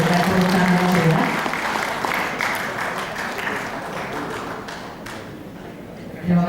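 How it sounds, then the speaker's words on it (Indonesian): An audience applauds at a directorate award ceremony as a certificate of appreciation is presented to a JICA expert; sustained, moderately loud clapping fills the hall, with brief voices at the start and end. "Kita berikan tepuk tangan ya."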